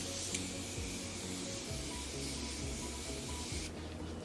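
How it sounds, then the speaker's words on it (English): Morphe setting mist sprayed onto a face, a steady close hiss of fine spray running almost continuously before cutting off near the end, with no talking. "First, I'm going to set my face with the Morphe setting mist."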